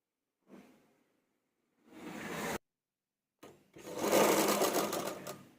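A sewing machine stitches the folded border of a high V-neck collar blouse in two close bursts, a short run followed by a longer, louder one, with quiet gaps around them.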